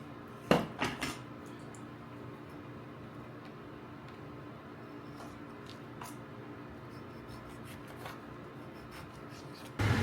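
Tomatoes cut with a dull kitchen knife on a board: a few sharp taps near the start, then soft scraping and faint knocks over quiet room noise, with a final clatter at the end.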